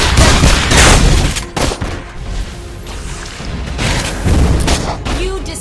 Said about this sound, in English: You destroy a turret.